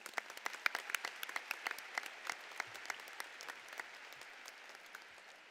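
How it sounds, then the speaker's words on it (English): Graduation crowd applauding the high school class of 2021, a sustained patter of many hands clapping at moderate distance that slowly thins toward the end. "Now I think that deserves a round of applause for the class of 2021."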